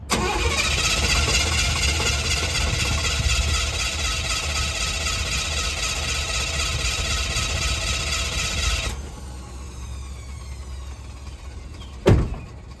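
A starter motor on a 1993 Chevy K1500 cranks a truck engine steadily for about nine seconds without it catching, then stops, leaving a quieter hum and a brief click near the end.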